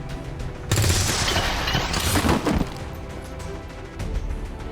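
A heavy burst of gunfire erupts in XCOM 2 as a soldier fires on an enemy, a loud rattling volley lasting about two seconds before fading into a lingering game ambience.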